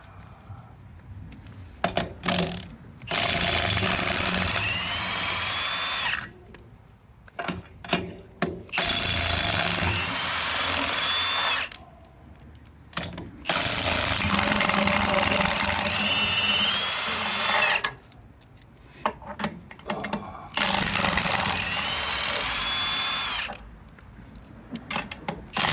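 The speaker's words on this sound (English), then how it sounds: "we'll blast these lug nuts loose" A power tool blasts trailer lug nuts loose in several loud, sustained bursts of buzzing, whining rattle, each several seconds long and split by short pauses and clanks.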